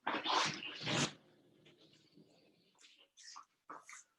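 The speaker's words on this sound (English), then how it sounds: "Open for dog." A dog in a room during an online university maths lecture makes two loud close bursts, then a pause of faint rustling and a few short whiny, yelping sounds.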